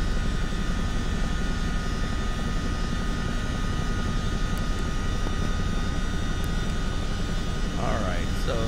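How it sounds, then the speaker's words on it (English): A CH-47D Chinook helicopter's second engine starting up in the MSFS 2024 flight simulator: a steady, loud turbine whine and broad rumble that hold throughout, with a faint rising chirp near the end. "Engine 2 startup."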